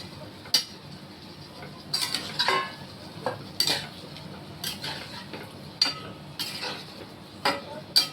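Boiled vegetable stalks are tipped into a cooking pan, with a series of clinks and scrapes of a utensil against metal and a soft hiss from the pan, close by with no speech.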